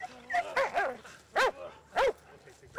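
A Belgian Malinois shepherd guard dog in East Jerusalem gives several short, close barks and yips, spaced irregularly over a few seconds against a quiet background.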